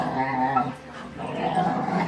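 A puppy growls and grumbles in a low, rough, wavering run, close and fairly loud, with a brief dip midway before the growling resumes.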